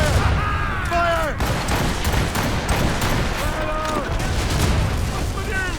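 Ship cannons in Assassin's Creed Rogue boom in rapid, rolling volleys during a naval battle, heavy overlapping blasts with whistling shots while crew voices shout commands over the barrage.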